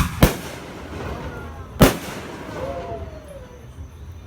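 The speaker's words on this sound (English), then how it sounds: "Fireworks." Fireworks going off at night near a house party, heard as two separate sharp booms at a moderate distance, followed by a faint whistle that fades out.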